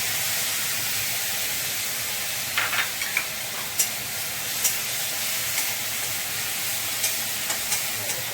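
Green chilli paste and tomato stirred in a frying pan, giving a steady broad sizzle and hiss with scattered clicks and scrapes of the spoon against the pan, close and continuous with no talking.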